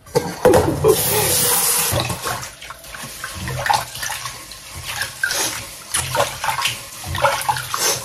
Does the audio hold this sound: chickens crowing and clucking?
no